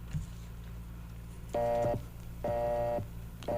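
A cellphone busy signal sounds as two steady repeating tones, each lasting about half a second, loud and alone over a low hum.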